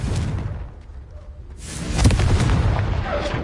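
A Confringo fire spell explodes in the Hogwarts Legacy video game, heard as a loud booming blast that rises near the two-second mark and rumbles on to the end, following a quieter stretch.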